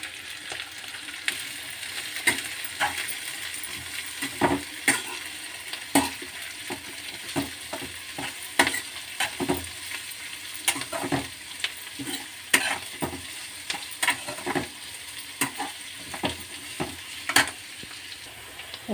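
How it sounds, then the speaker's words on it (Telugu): Shredded cabbage sizzles in hot oil while a spoon stirs it in the pan. A steady frying hiss runs under frequent scraping and clinking strokes against the pan, with no voices. "ఇప్పుడు ఈ క్యాబేజీ అంతా వేసుకొని ఆయిల్లో వేపుకుందామండి"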